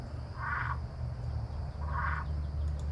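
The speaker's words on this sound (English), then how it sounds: "That's your Cuban tree frog." A Cuban tree frog gives two squeaky, creaking calls about a second and a half apart, each lasting roughly a quarter second, over a steady low hum.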